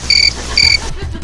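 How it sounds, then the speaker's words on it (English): A loud cricket chirping sound effect played during a podcast, with two short, bright, rapid trills separated by a brief pause, then fading into room noise. "Loudest crickets ever."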